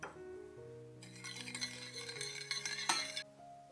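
A spoon stirs sugar, sake and soy sauce in a small saucepan, with quick scraping swirls and light metallic clinks over a soft background tune.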